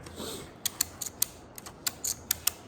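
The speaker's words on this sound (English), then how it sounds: "now you're gonna hear it start ratcheting" A strap clamp's ratchet mechanism being worked for woodworking joinery, giving a run of sharp, close clicks in an uneven rhythm, about ten distinct ratchet snaps over a few seconds with no talking.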